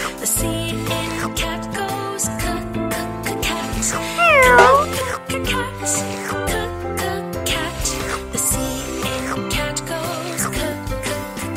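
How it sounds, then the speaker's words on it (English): A cartoon cat meows once, loud and clear, over a bouncy children's phonics song with sung vocals running throughout. "The C in cat goes meow."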